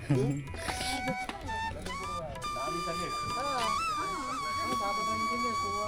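Dogs yip and whimper in short, high, wavering cries, heard close under steady conversation between people.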